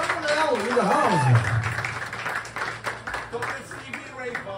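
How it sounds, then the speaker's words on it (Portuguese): Audience clapping at a live rock show in Ponta Delgada, Azores, sounding as a loose patter of hands that rises under an amplified announcer's voice and continues after he stops. "Salve de palmas, João Manuel do Baixo."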